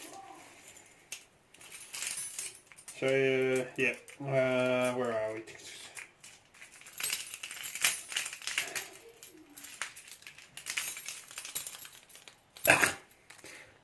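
Keys jangling on a keyring, brief metallic clinks and rattles scattered through the clip, mixed with handling noise, under someone talking.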